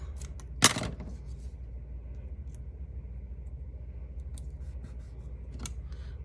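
Scissors cutting a strip of paper for a Mondrian-style painting: one crisp, close snip near the start, followed by a few faint rustles over a steady low hum.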